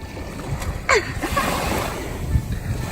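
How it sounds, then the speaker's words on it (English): Gusty wind roaring over the microphone on a Martinique beach, with surf washing in the background and a few brief knocks and scrapes along the way. "Windy. It's very windy."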